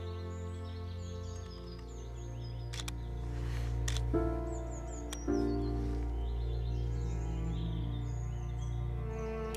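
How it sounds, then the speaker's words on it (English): Birds sing in a bluebell woodland in Perthshire, soft chirps and warbles scattered over a steady low hum, with a few sharp clicks breaking through. "It's great hearing all these birds."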